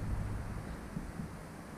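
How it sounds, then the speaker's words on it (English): Wind gusting outdoors on a very windy day, a steady low rumble buffeting the microphone throughout with a couple of slightly stronger gusts, no voices. "It's a very windy day."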